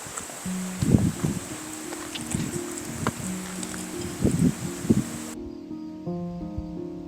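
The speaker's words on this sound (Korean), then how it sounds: "바람 엄청 시원해요, 근데." Wind moving through rustling leaves at a solo campsite, a soft steady rush broken by a few louder gusts and brushing thumps, fading out before the end with no talk.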